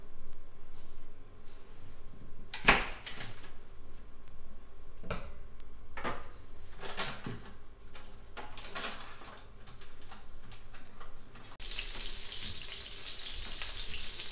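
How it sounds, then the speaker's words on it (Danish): Margarine melts in a heated frying pan with a faint, steady sizzle under scattered kitchen clatter and knocks, then a louder hiss swells near the end. "Mit margarine det er smeltet"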